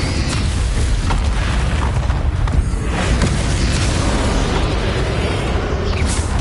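The Bombarda blasting spell goes off in Hogwarts Legacy, a heavy, continuous rumbling boom filling several seconds at high loudness with brief pops and bursts layered on top.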